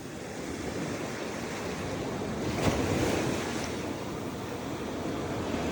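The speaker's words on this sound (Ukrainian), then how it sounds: "Морской прибой" Sea surf breaks on the shore on a morning beach, a steady broad wash of waves with some wind rumble, continuous and close, with no voices.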